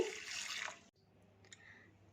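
Moong dal lentils are rinsed in water, giving a brief burst of sloshing and swishing, then a quieter stretch with a few faint drips and clicks.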